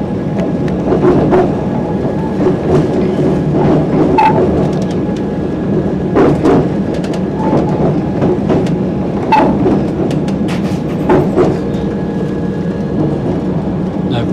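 A passenger train rumbles along as it approaches Stratford-upon-Avon station, a steady loud onboard roar with rail clicks and clunks throughout and no talk.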